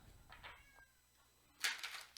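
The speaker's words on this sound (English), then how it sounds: "there goes the cat. He must be outside of the bathroom window screaming his head off" A cat meows loudly outside a window, with a brief yowl near the start and a louder, harsher burst of calling toward the end, heard from indoors.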